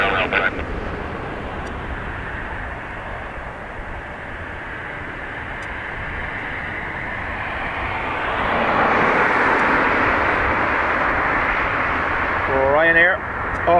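A Ryanair airliner departing Dublin Airport, its steady jet roar building and swelling to a louder peak past the midpoint before easing, heard from a distance with faint voice-like chatter mixed in.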